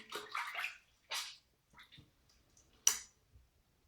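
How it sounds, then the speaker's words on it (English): Water splashes in short, close bursts as a face is rinsed at a sink after shaving, with quiet gaps and soft drips between the splashes. "Let me go ahead and rinse off my face."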